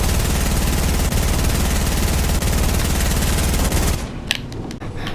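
A rapid-fire gun with a 40-round magazine being tested in Fortnite, a fast, unbroken mechanical rattle of shots for about four seconds, then stopping abruptly with a few scattered clicks and thuds after.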